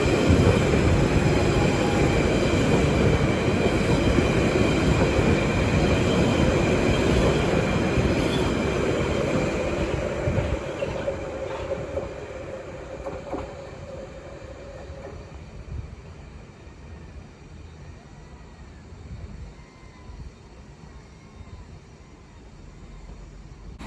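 A London Underground Central Line train rumbles past nearby at Ealing Broadway with steady rail noise and faint wheel squeal, gradually fading as it pulls away into the distance.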